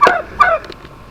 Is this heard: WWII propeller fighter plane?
no